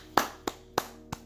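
Four sharp hand claps ring out, evenly spaced about a third of a second apart, close and alone with no talking.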